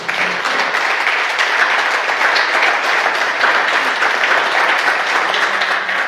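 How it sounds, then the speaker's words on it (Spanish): Loud, steady applause from a large church congregation, sustained clapping without a break. "Dale un aplauso fuerte al Rey"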